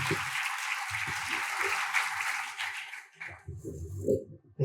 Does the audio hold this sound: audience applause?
yes